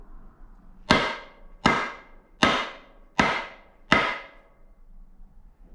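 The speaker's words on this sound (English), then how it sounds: "just hit it with a hammer" Five sharp, evenly spaced hammer blows strike a timber block resting on an engine piston, each a solid knock with a short decay, close up and alone.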